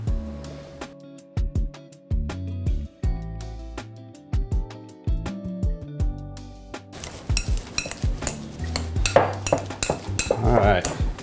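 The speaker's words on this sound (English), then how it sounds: "so I'm ready to go ahead and get them mashed up." Cooked potatoes are mashed in a metal pot with a utensil, producing repeated sharp clanks and knocks against the pot, followed by denser scraping, squelching and clattering, close up with no talk.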